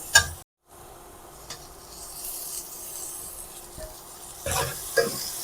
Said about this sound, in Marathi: आणि ते टोमॅटो कांद्यामध्ये परतून घ्यायचा आहे।